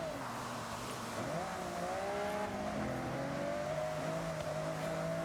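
Race car engines in Forza Horizon hum and rise steadily in pitch as they accelerate, heard faintly and continuously behind low background noise and a voice.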